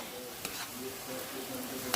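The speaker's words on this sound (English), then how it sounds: "So I just stir that up." Okra soup ingredients with beef are stirred together in a single pot, a steady close sizzling hiss with faint scraping under it and a small knock near the end, no voices.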